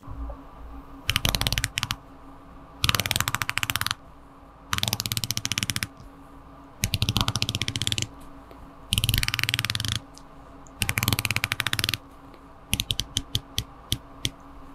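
The blue polished ceramic dive bezel of an Omega watch ratchets round in six bursts of rapid close clicking, each lasting about a second with short pauses between, ending in a few separate clicks.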